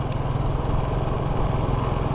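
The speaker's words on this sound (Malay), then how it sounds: "Motor ni pantas, memang aku pantaskan betul" A motorcycle engine drones steadily at speed, a low buzzing hum with a fluttering rhythm that holds a constant pitch, moderately loud and close.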